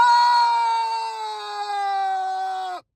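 A voice imitates another man's scream: a single sustained, loud, strained cry lasting under three seconds that cuts off abruptly.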